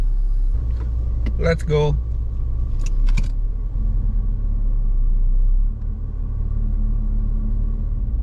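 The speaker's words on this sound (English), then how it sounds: "Cold startnya pagi-pagi." A BMW E30 idling after a cold morning start, a steady low rumble close by that runs throughout, with brief voices and a short jingle of keys early on.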